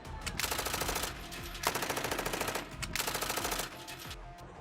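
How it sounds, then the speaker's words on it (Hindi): Bursts of rapid automatic gunfire rattle in the streets of Iran in three sustained volleys separated by short pauses, loud and harsh. "ईरान की सड़कों पर गोलियां चल रही हैं।"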